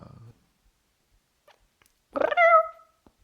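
A person imitates a cat with a single drawn-out meow, briefly preceded by a short murmur, in an otherwise quiet room.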